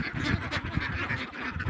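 A flock of farm ducks quacks steadily on a duck farm, with dense overlapping calls from many birds and occasional goose-like honks, near and continuous without speech.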